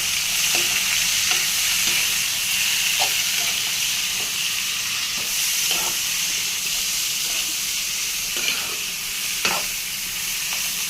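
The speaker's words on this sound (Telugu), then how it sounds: "తాలింపు వేగిపోగానే చిక్కుడుకాయలు వేసేయాలి" Broad beans sizzling in hot tempering in a pan, a steady close hiss with occasional stirring scrapes and clicks throughout.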